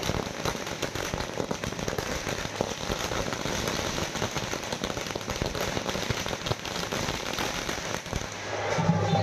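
Dense, continuous crackling and popping of firecrackers set off by DMK party supporters celebrating in Tamil Nadu, a steady barrage of bursts lasting throughout with no pause, fairly loud and close.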